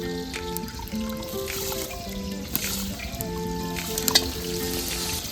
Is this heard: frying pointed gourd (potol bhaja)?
yes